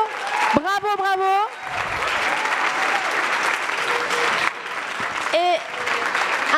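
Audience at a talk applauding children who took part in both sessions, with sustained crowd clapping under a voice speaking over it at the start and again briefly near the end.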